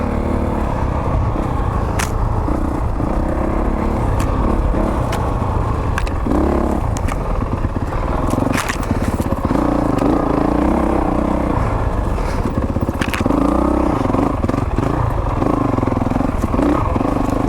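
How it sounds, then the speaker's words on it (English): A Honda single-cylinder thumper motorcycle rolls along in third gear with the clutch feathered, its engine a steady, loud, close thrum with some clatter and rattling throughout. "feathering the clutch in third gear, you can really hear it. That classic Honda sound."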